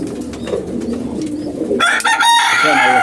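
Chickens cluck close by at a pigeon coop, a brief loud bird call rising over low cooing and background rustle.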